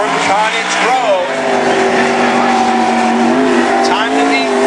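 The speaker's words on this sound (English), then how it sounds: "Out on the racetrack in the number 18 car, this is Mike Carruthers from Cottage Grove." A race car, the number 18, laps a racetrack at a national qualifying event in Cottage Grove, its engine a steady, loud drone that rises and falls slightly in pitch throughout.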